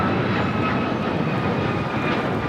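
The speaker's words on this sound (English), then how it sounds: "That was United Airlines 1621 taking off to Orlando on a MAX 9" A United Airlines Boeing 737 MAX 9 takes off from runway 25 right at LAX, its jet engines producing a loud, continuous, even roar with no talk over it.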